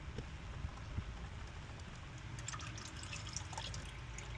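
Engine oil drains from a Honda Odyssey during an oil change, trickling and dripping steadily along a paper towel onto the subframe, faint and close, with no talk.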